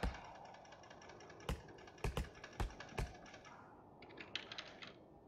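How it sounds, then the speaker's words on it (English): Rapid keyboard typing with sharp clicks in bursts, close and fairly quiet, against a soft steady background hiss. "You guys can hear me like typing really fast and clicking really quick"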